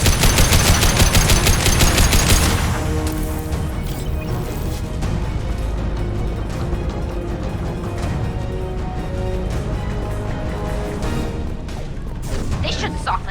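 Rapid automatic gunfire rattles in a Mass Effect 2 firefight, a dense burst up front easing into steady bursts and impacts under a speaking voice.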